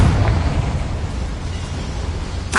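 A Confringo blasting spell explodes in Hogwarts Legacy, a deep rumbling boom that fills the moment and decays slowly, with a fresh burst at the very end.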